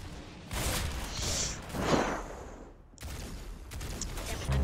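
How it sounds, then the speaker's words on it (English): Shotgun blasts ring out in the Roblox shooter Arsenal, several loud bursty shots with a whooshing sweep and thuds, spread over a few seconds amid game noise. "I really don't like this shotgun."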